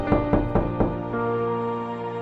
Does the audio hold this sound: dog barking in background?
no